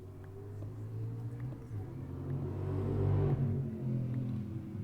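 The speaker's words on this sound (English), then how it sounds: "some freaking sports car just drove past my street" A sports car engine rumbles low and grows louder as it passes by outside on a street, then fades slightly; the sound is muffled and distant.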